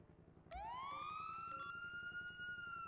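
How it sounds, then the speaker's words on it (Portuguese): A police armored vehicle siren starts abruptly and rises into a loud, steady wail that holds close and dominant over low rumbling background noise. "Um caveirão, claro que vai ter sirene, né?"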